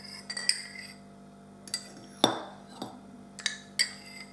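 A spoon stirs a plaster-of-Paris mixture in a container for a homemade mold, giving several sharp, separate metallic clinks and scrapes at irregular intervals, close and clear with no talk.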